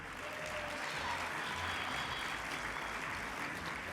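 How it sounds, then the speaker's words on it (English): Applause for award-winning partners at a veterans honors awards luncheon, a steady, fairly soft wash of clapping from a large room that holds evenly throughout. "Please give a warm round of applause to these stellar partners"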